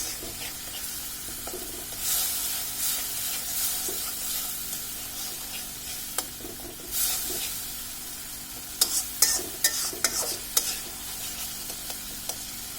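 Spice masala with tomato paste being sautéed in a pan, a soft continuous sizzle under repeated scraping stirs, with a burst of sharp clinks and scrapes toward the end and no voices.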